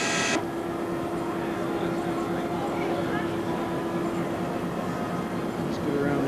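A train rumbles past nearby with a steady low hum and rattling wagons, continuous throughout with no pauses.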